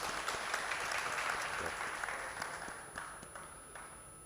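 Audience applause for a guest at the 17th Aalmi Urdu Conference 2024 in Karachi: dense, steady clapping from a large crowd that gradually thins and fades toward the end.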